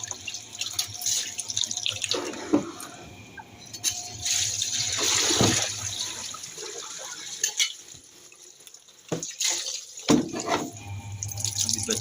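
Hot water runs steadily from a tap into a basin for washing clothes, a continuous close splashing stream with a few brief breaks and drips, no talking.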